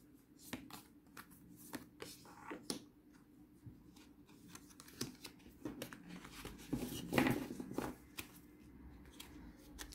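Tarot cards are shuffled by hand in a series of soft, quick riffles and slaps, close but quiet, with brief pauses between bursts and no talking.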